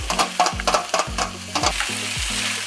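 Fish frying in a pan with ginger garlic paste, giving a bright, hissing sizzle close up, with a few rhythmic stirring knocks and a low buzzing hum beneath.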